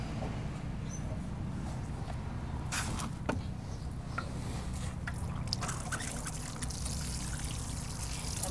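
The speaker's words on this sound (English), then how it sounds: "I'm going to also water in my peas." Water trickles and pours onto freshly planted seeds in garden soil beside a trellis, a steady soft splashing stream with scattered sharper drips, close and continuous over a low background hum.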